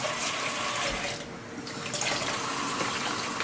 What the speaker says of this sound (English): Alright, I'm rinsing off my pork chops.